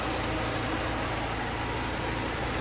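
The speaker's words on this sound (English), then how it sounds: "Engine is running smoothly though." A car engine idles steadily with a constant low rumble and hum, no voices and no change in pitch.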